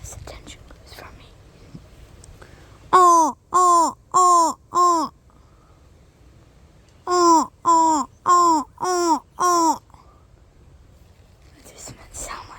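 A person imitates a crow's caw outdoors while bird watching, giving two quick bursts of loud, rhythmic, croaking calls, first five and then six, with quiet stretches between and around them.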